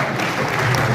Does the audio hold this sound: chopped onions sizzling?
no